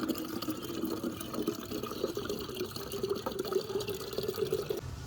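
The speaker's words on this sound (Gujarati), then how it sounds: "વાઇપરમાં હું પાણી નાખી દઉં, કારણ કે ઓછું થયું એમાં પાણી." Water is poured into a car's windscreen washer reservoir, a faint, continuous trickling and gurgling fill lasting several seconds.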